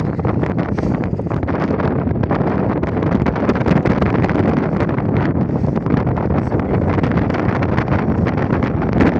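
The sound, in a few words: strong wind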